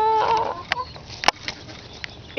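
Chicken clucking close by, a loud drawn-out squawk at first followed by scattered short clucks and sharp clicks, alone without talk.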